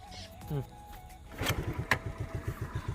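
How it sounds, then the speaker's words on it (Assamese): A scooter's engine cranks and catches, then settles into a steady puttering idle close by, with voices and small mechanical noises just before it fires. "বাইক বা স্কুটি যি নহয় আপোনাৰ ওচৰত আপুনি অন কৰিলে পোনপ্ৰথমতে"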